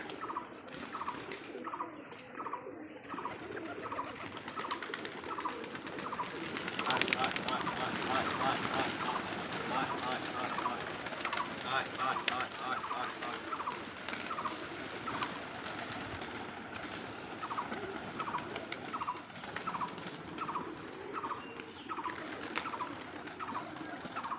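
Highflyer Giribaj pigeons cooing in a loft, soft repeated coos sounding in a rough rhythm against a steady background hum, with a brief flurry of noise midway.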